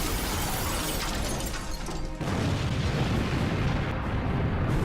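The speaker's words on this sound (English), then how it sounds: "Man, those are some big explosions" Big movie explosions roar in a dense, loud, continuous wall of blasts and shattering debris, with a sharp fresh burst midway that keeps the rumble going.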